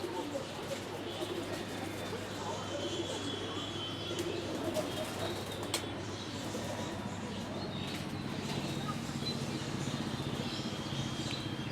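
High flyer pigeons, Teddy and Bateire breeds, coo and shuffle in a loft, low murmuring calls with occasional wing flaps and sharp clicks throughout a long steady stretch, faint ambient noise underneath.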